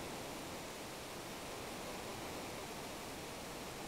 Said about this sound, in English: Wait, you hear that? Yeah, sounds like a waterfall?